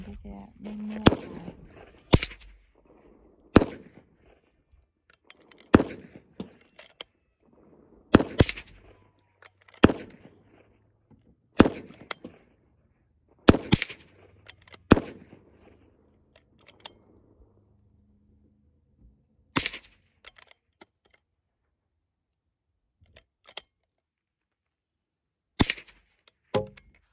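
.22 long rifle being fired at a shooting session, a dozen or so sharp reports spread irregularly over nearly half a minute, moderately loud and close, with some soft background talk between shots.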